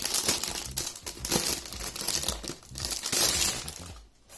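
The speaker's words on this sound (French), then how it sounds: "On va déjà déballer." Packaging for a leather Huawei P30 phone case is unboxed, giving steady close crinkling and crumpling of paper and wrapping with small rustling crackles throughout.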